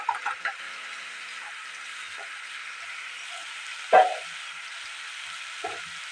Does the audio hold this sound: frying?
yes